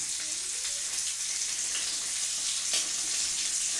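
Bacon fries in a pan with a steady, bright crackling sizzle that holds throughout at close range, with no talk over it.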